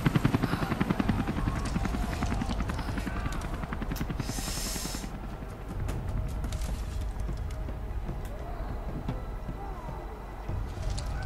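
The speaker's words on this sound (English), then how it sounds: "Helicopters." Helicopters in the video game Rise of the Tomb Raider give off a steady, continuous rotor drone that runs through the whole stretch under gameplay effects, with a brief bright hiss partway through.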